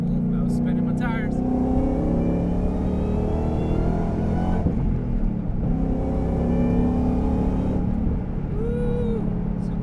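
US-spec 2019 Ford Mustang Bullitt accelerating hard on the Autobahn, a steady loud engine drone rising through gears with a brief shift dip midway, heard from inside with a person talking over it.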